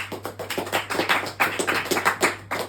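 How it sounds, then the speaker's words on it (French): Scattered applause from a small comedy club audience, sparse uneven claps in quick succession, fairly close and thin rather than a full ovation. "Par applaudissement, qui a déjà utilisé Tinder?"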